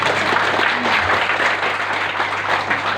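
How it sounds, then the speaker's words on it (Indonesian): An audience at a business seminar about sales commissions breaks into applause, a dense, steady wash of many hands clapping close and loud for the full three seconds, with a low electrical hum underneath and no clear speech. "Jadi tepuk tangan yang mantap."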